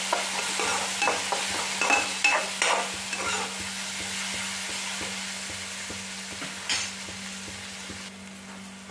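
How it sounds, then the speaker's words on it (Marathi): Onion sautéing with mustard seeds and turmeric in a pan for a bamboo shoot curry makes a continuous sizzle with frequent sharp spatters and stirring scrapes, and a steady low hum runs underneath. "थोडीशी मोहरी टाकायची, हळद टाकायची आणि परतून घ्यायचे"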